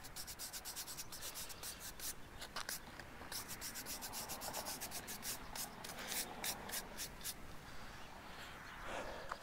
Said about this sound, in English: We're gonna just take a quick brush across it here with a bigger brush.